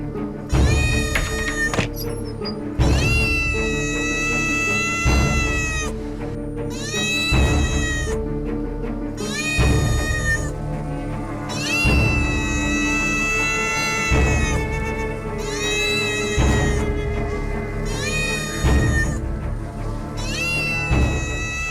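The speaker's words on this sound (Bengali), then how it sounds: "হঠাৎ বিড়ালের কান্নার আওয়াজ কেন" A cat cries and meows loudly and repeatedly in drawn-out, wailing calls with short pauses between them, close and clear, with no talking over it.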